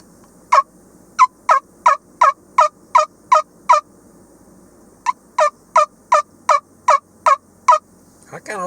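A two-bone turkey call rattles out a gobble imitation in two quick bursts of rapid, evenly spaced notes, loud and close, with a brief pause between the runs.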